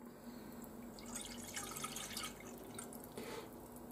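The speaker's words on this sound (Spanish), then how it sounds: "Se echa el caldo." Chicken broth is poured into a pot for soup in a kitchen, giving a faint, steady liquid trickle with soft splashes.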